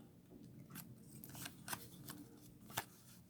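Scissors cut a paper band with a few close, crisp snips and light rustles of paper, and no talking.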